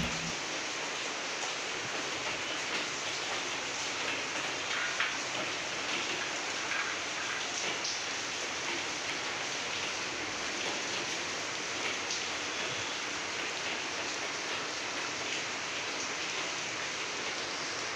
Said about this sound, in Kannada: ಕಂಟಿನ್ಯೂಸ್ ಮಳೆ ಬರ್ತಾನೆ ಇದೆ.